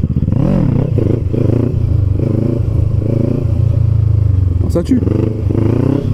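A Kawasaki Ninja 650 motorcycle rolls slowly through a wheelie, its steady low engine drone running close and loud throughout, with a brief scrape or clatter near the end and someone talking over it.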